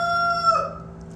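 A rooster crows once nearby, a short bright call that fades out within about a second in a backyard chicken coop.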